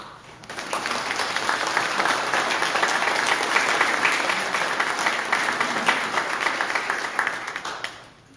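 Sustained, dense applause from a crowd at a public meeting on a property tax protest in Floresville, swelling quickly and holding steady for several seconds before tapering off, with no talk over it.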